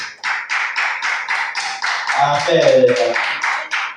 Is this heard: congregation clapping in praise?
yes